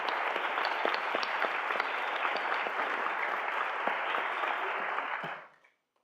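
A school Veterans Day assembly crowd applauds veterans and their families, a steady wash of many hands clapping at moderate distance, with a few sharper claps standing out, fading away near the end.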